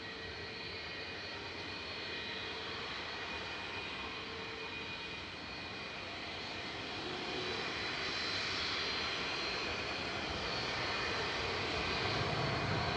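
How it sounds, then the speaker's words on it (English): A Ryanair passenger jet arriving from Barcelona touches down at Manchester Airport, heard as a steady distant engine roar that swells gradually louder toward the end. "Ryanair touching down from Barcelona with flight 7543"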